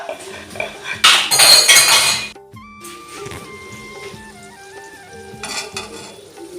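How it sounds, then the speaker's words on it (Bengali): Singaras fry in hot oil on a winter evening as snacks are made, a burst of loud sizzling mixed with metal utensil clatter and scraping nearby, followed by quieter clinks and a second sizzle. "এই দেখো সিঙ্গারা ভাজা হচ্ছে।"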